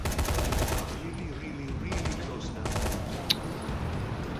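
Gunfire in the zombie video game Dying Light The Following: dense, continuous bursts of shooting fill the whole stretch, with a sharp single crack near the end, while a voice talks over it.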